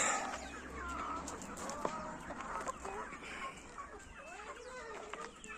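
Chickens and growing chicks cluck and peep in a farmyard coop, a busy mix of soft calls at moderate distance over background noise, with occasional voices nearby.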